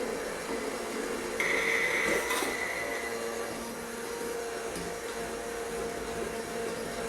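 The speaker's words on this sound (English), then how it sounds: "If you don't have an immersion blender, what you can use is you can use your food processor." An immersion blender mixes dinner roll ingredients in a kitchen, producing a steady, close, whirring drone that holds at an even level throughout with no talk.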